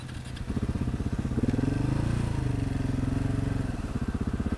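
Husqvarna 701 Enduro motorcycles ride in on a trail near Moab, Utah: a loud, close single-cylinder engine putters with a steady rapid beat, rising and swelling as the bikes pull in, then settling back toward idle.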